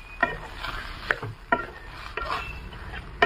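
A utensil stirs egg fried rice in a pan, producing sharp scraping clacks at a steady, uneven rhythm roughly every half second, close and moderately loud with no talk.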